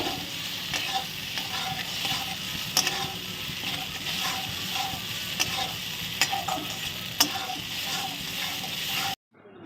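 A fish-head muri ghonto mixture is stir-fried in a pan, with a constant sizzle beneath repeated scraping strokes and sharp clinks of the spatula, near and steady before cutting off abruptly.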